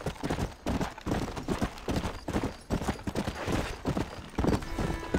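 Horse hooves in Red Dead Redemption on PC pound in a quick, steady galloping rhythm, close and loud, with faint crackling noises behind them.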